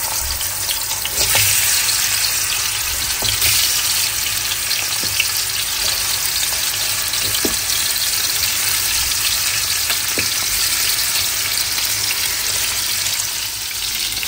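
Hilsa fish pieces frying in hot oil with turmeric and salt give a loud, steady sizzle and crackle that continues throughout, with no talking.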